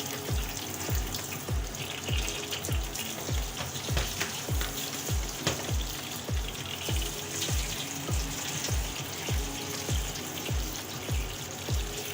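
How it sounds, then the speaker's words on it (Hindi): Water being drained from boiled food into a sink, a continuous splashing, trickling flow with a steady run of small clicks and drops, close and fairly soft, with no voices. "अब इसका सारा पानी निकाल लेंगे।"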